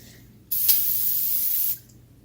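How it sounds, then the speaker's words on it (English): Brake parts cleaner aerosol sprayed onto the area around a lower ball joint on a car's lower control arm, one steady loud hiss lasting just over a second, starting abruptly and cutting off cleanly. "Get some brake parts cleaner to clean up the area around the ball joint"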